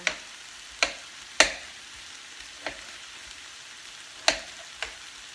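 Meat frying gently in a pan over low heat gives off sparse, irregular crackles and pops above a faint, quiet sizzle, with no voices.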